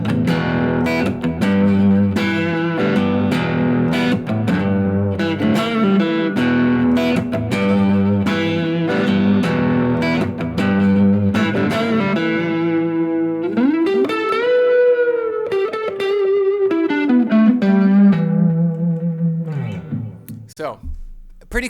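A Fender Player Stratocaster played on its neck pickup through effects pedals including an Electro-Harmonix Oceans 11 reverb, a close run of distorted, reverberant notes and chords, ending with long bending sustained tones that fade out.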